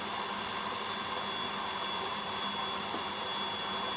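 A steady, even motor whir from a KitchenAid stand mixer whipping Swiss meringue buttercream runs throughout at constant loudness, close by.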